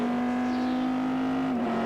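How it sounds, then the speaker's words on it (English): Number 4 factory Chevy Corvette race car at Sebring heading onto the Ullman straightaway, its engine a loud, sustained, steady tone that drops slightly in pitch near the end. "the number 4 factory Chevy Corvette, making its way onto the Ullman straightaway"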